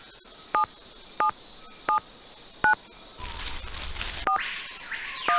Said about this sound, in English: Please enter your friend's hotel account number now and press the pound key when you are through.